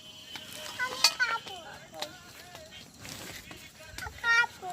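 An earthen clay pot holding oil with bay leaves, dried chilies and whole cumin sits on an outdoor picnic stove and is swirled, giving intermittent scrapes, clinks and soft sizzling under a speaking voice.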